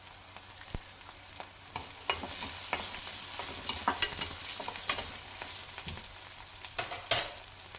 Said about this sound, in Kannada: ಎಲ್ಲ ಚೆನ್ನಾಗಿ ಫ್ರೈ ಆದಮೇಲೆ ಕರಿಬೇವಿನ ಸೊಪ್ಪು ಹಾಕ್ಕೊಳ್ತೀನಿ.